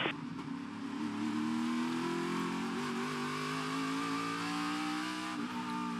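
A NASCAR O'Reilly Auto Parts Series race car roars at full throttle up a hill, its engine note climbing steadily, then the driver clutches and coasts near the end, loud and close with no talk over it.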